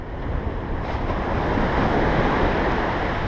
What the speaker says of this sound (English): First wave's coming up.